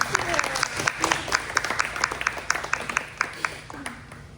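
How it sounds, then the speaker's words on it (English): A small audience at an investor meetup applauds, with brisk, distinct hand claps forming a steady close patter throughout. "I think they deserve another round of applause."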